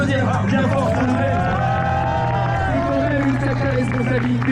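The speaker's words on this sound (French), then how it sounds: "est-ce qu'on peut l'applaudir bien fort, s'il vous plaît?" A crowd at the Stade de France during the RATP half marathon cheers and claps for an official 1h55 pace runner, a dense steady roar of voices and applause with chatter mixed in throughout.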